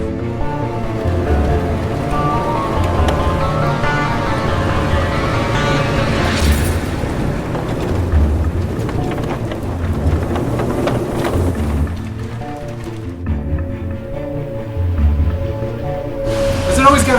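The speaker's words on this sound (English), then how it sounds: "Does it always gotta rain during our investigations?" Steady rain falling outside during an investigation at an old house built in 1876, a constant rushing hiss with low rumble, heard under talk and dropping off briefly near the end.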